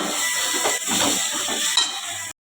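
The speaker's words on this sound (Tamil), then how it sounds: "மசால் பொடி சேர்த்து நல்லா வதக்கி விட்டுக்கோங்க." Loud, steady sizzling of masala powder and spices sautéing in a hot pan for sambar, with brief stirring scrapes and a clink near the end.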